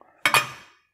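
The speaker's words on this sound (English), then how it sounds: "So take off the tripod." A JetBoil Zip stove's metal tripod being pulled off, two quick sharp metallic clinks in close succession with a short ringing decay, near and alone.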